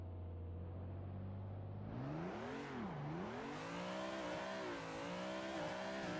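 Car engine in the Assetto Corsa racing game: a steady idle rises into high revs that swoop up and down as the car holds a drift. Loud, continuous and without talking.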